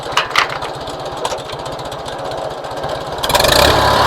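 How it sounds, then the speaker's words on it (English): A 1953 Farmall Super C tractor engine runs at high RPM, a steady loud throbbing chug up close that swells louder and rougher near the end. "I'm going to go low speed but high RPMs, and that'll broadcast"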